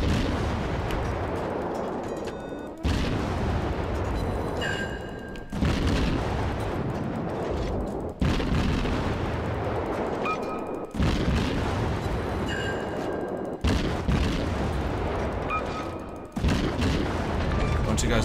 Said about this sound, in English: Opening up guns.